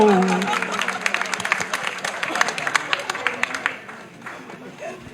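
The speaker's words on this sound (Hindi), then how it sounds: "तालियां बजाओ।" Crowd at a political rally in Ballabhgarh claps and cheers in a dense, sustained burst that swells and then tapers off toward the end, with a voice talking over the start.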